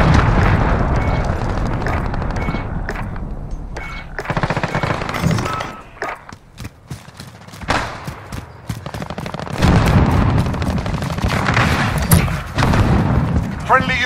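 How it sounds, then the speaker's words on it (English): A cruise missile killstreak strike in Call of Duty Modern Warfare on the Hovec Sawmill map during team deathmatch: loud booming explosions amid gunfire bursts, with an announcer-style voice heard over the battle noise. "Cruise missile away."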